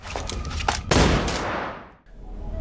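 Gunfire in a Liam Neeson revenge thriller: a few sharp cracks lead into one loud, close shot whose booming blast rolls away over about a second, with no talk.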